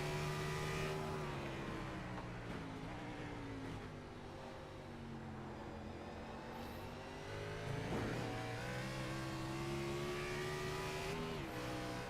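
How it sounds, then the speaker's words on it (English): A race car in a Watkins Glen sim racing game drones steadily while drafting, its engine pitch dipping and climbing again as it works through corners, loud and continuous with no talk. "But you can hear Owen in that draft"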